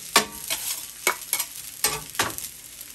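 Hibachi-style teriyaki chicken cooked on a Steelmade USA flat top grill, heard as a close sizzle broken by four or five quick, bright scrapes of a spatula across the metal surface.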